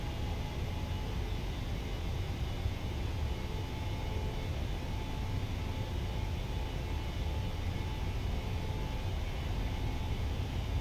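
PMDG 737-800 jet engines in Microsoft Flight Simulator spooling toward takeoff thrust, a steady broadband roar that stays constant and loud throughout, with no talk over it.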